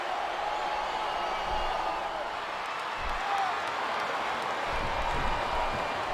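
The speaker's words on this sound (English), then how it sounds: "listen to that chant, Taz." A wrestling arena crowd in WWE SmackDown vs. Raw 2007 roars in a steady, distant wash of cheering and chanting that holds evenly throughout with no break.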